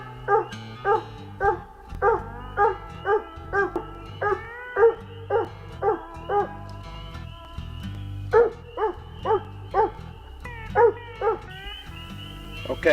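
Coon hounds treeing a raccoon, including dogs named Blue, Gypsy and Gold, baying steadily in a rhythmic run of loud, close barks with brief pauses and a few higher yips.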